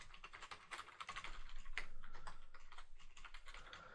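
Quick, continuous typing on a computer keyboard as a username and password are entered, soft close clicking without pauses and with no talking.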